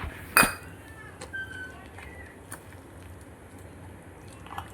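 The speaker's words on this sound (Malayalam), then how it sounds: "അതൊന്ന് സ്പൂണിട്ട് ഇളക്കി നോക്കുക" A spoon stirs wheat flour dosa batter inside a mixer jar: one sharp clink near the start, then soft, faint scraping and occasional light taps against the jar.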